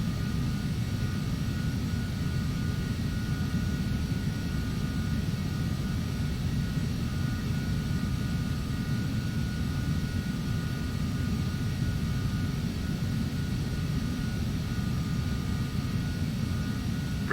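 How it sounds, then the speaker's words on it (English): An airliner takes off in the Prepar3d flight simulator on the Luton to London City route, its engines a loud, steady, unbroken roar that holds throughout with no speech. "We're not going to backtrack, just going to turn left and take off from here."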